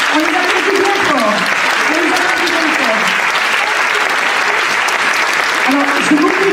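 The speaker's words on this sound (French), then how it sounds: "On salue, on les applaudit bien fort." A theatre audience applauds loudly after a stage production of The Phantom of the Opera, with dense, sustained clapping and cheering while a voice talks over it.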